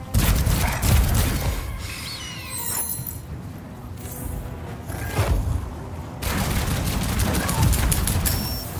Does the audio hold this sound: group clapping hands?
no